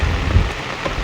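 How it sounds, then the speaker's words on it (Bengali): Steady rain with gusting wind during a storm at sea, heard from a fishing boat in the lee of an island; a constant loud wash of rain with low wind rumble throughout, no voices. "বৃষ্টির সঙ্গে সঙ্গে হাওয়াও চলছে।"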